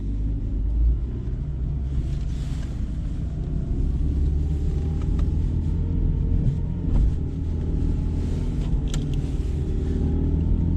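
A Renault Clio running on LPG drives on a cold day, its engine hum and steady road rumble holding a constant low drone with no breaks.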